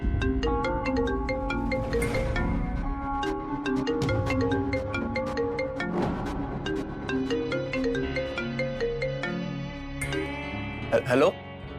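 A phone ringtone plays as a call comes in during a Crime Patrol drama scene: a repeating melodic tune with steady note patterns, followed by a brief sweeping effect near the end.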